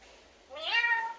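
A single rising, drawn-out meow at close range, heard in a home that also keeps a talking parrot, starting over faint background noise.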